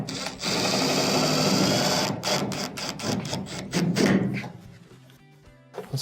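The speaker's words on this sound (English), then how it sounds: "and then use the drill" A power drill drives a screw inside a clothes dryer during a thermistor and thermostat repair, giving a steady close whir for about two seconds, then stuttering bursts that taper off.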